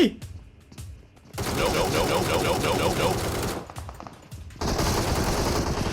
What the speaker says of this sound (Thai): มาลองใช้กันดูครับ ปืนที่ดีที่สุดในเกม เอสามสิบสอง